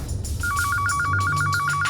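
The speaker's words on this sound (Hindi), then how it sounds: "उसी समय मिस्टर शिनॉय का फोन आया" A telephone rings in an office during a bank theft courtroom drama. It starts with a rapid warbling electronic trill, loud and close, repeated in quick pulses over a low background hum.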